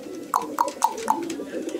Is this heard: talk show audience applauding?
no